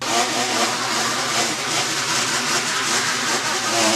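A modified DJI Mavic Mini rebuilt as an FPV drone whines steadily with its motors set to medium-high timing, a continuous buzzy mechanical drone at fairly constant loudness with slight fluctuations and no talking.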